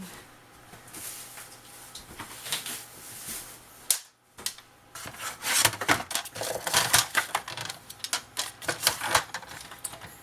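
Scissors cutting paper for a small scrapbooking folio, a quick series of close, crisp snips and rustles, denser toward the end, with a brief silent gap midway and no talking.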